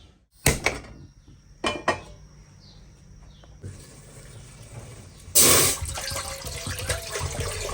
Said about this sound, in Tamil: தண்ணி ஒரு ஒன்றரை லிட்டர் ஆட் பண்ணிக்கோங்க